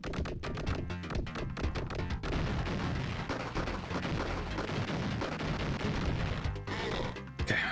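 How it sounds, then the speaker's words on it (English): Rapid booming blasts and bursts of gunfire from James Bond 007: The Duel, a 1993 game, form a loud, dense run of explosions with a grenade detonation among them. "I think I grenaded him there."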